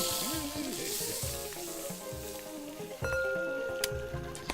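Steak sizzles on the grill in the cooking game Cook Serve Delicious 2, a steady hiss of frying with soft stirring clicks and no talk.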